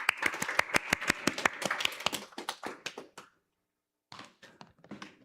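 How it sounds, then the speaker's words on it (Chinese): A small group at a youth church service claps to welcome a speaker, a burst of sharp individual claps that thins out, stops briefly, then resumes as a few scattered claps close by. "我们拍手来欢迎允琪。"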